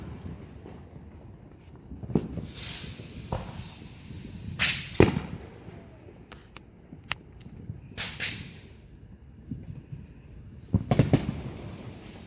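Fireworks go off outdoors at night, heard as scattered sharp bangs and crackles of varied loudness, some near and some farther off, over a low background rumble.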